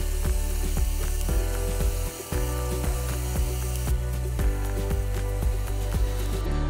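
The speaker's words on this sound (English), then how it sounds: "Calamari, we don't wanna fully cook the calamari. We just wanna give it a nice sear." Calamari searing in a hot pan, a steady close sizzle overlaid with rhythmic clicking and knocking as the squid is tossed, continuing without pause, with no talk over it.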